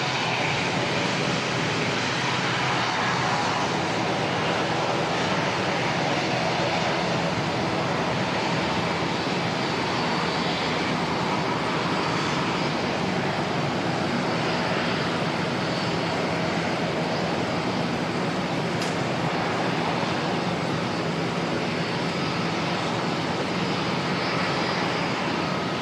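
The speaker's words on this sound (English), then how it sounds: "China Eastern flight 712, A380 heading off to Sydney." China Eastern Airbus A380 jet departing Auckland for Sydney, a sustained, fairly distant engine roar with a broad hiss that stays even and unbroken for the whole stretch, no talking.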